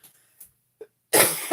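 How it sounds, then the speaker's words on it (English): A single person coughs a few times, with small faint coughs early on and then a loud, harsh close cough burst near the end. "Still coughing."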